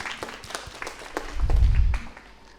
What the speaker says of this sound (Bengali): তার জন্য একটা ছোট তালি হয়ে যাক